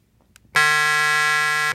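A microcontroller sound generator gives out a steady buzzing 100 Hz tone, loud and close, that starts abruptly and holds for just over a second before cutting off.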